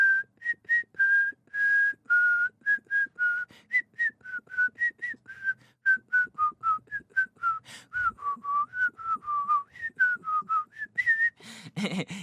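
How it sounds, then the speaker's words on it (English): A solo whistled melody from the first season of American Horror Story, a steady run of clear, sustained notes and short phrases in a slow, wandering tune, close and alone with no talk. "the one thing that really stuck out to this season was the little"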